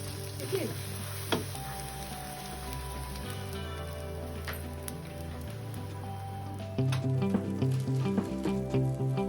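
Pav buns roast with pav masala and butter in a hot pan, giving a steady close sizzle and crackle that grows louder near the end, with a low hum running underneath.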